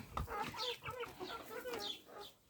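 Chicks clucking close by, a run of short, bright calls overlapping one another for a couple of seconds with no talking.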